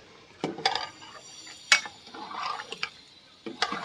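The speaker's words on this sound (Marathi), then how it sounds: "आता मस्त घाटा मारणार आणि परत शिजत ठेवायची" Chana dal stirred in a cooking pot, giving scattered scrapes and light metallic clinks of a spoon against the pot at irregular intervals, close and moderately quiet.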